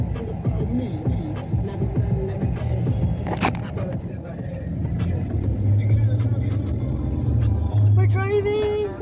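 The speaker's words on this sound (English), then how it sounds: "We're driving." Car interior at night, in a pickup truck, with a steady low engine and road rumble throughout and a brief scrape; a voice speaks over the noise at times.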